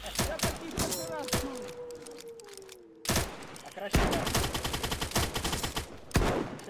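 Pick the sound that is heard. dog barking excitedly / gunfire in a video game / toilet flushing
gunfire in a video game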